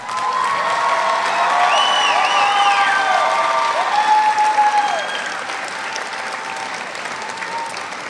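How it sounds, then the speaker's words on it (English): A high school graduation crowd in a gym applauds the graduates, steady clapping with some cheering and whistles, fading slightly toward the end. "How about a round of applause?"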